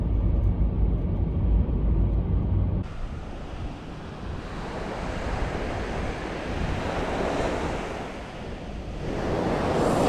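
Surf breaking on a Hokkaido beach at dawn, a broad continuous roar of waves with wind buffeting the microphone, loud and steady, swelling and easing over about ten seconds with no voices.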